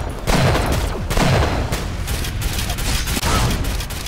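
Rapid gunfire in the video game Arsenal, loud and continuous with dense overlapping shots and booms; faint voices may sit underneath.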